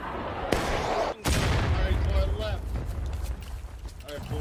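Musket volley from a line of players in War of Rights, a sharp burst of massed shots followed by more scattered gunfire and battle noise, with voices talking over it.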